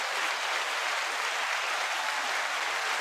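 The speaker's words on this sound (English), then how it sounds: "So let's clap my man up for that. Clap it up for him." A dense, even burst of clapping applause, many hands at once, steady and loud without pause or break throughout.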